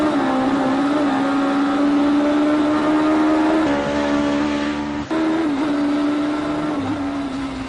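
A modified Mini race car engine drones loudly and continuously at high revs on a timed lap, pitch shifting slightly with gear changes and a brief dip before roaring on.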